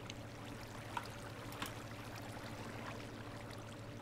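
Water placed in Minecraft flows with a steady soft trickling stream, a continuous faint rushing over a low game hum with a couple of light clicks.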